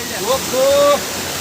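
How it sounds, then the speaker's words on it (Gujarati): A waterfall in the Girnar forest near the Jatashankar temple gives a steady broadband rush, loud and close, while someone speaks briefly over it. "અહીંયા પાણીના ધોધ ચાલુ થઈ ગયા છે"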